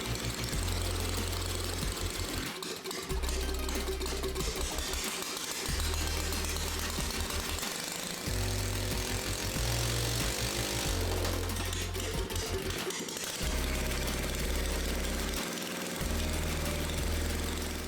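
A Power Wheels go-kart motor with a chain drive whirs and rattles in repeated close, loud runs of a few seconds each, separated by short pauses, with no talk.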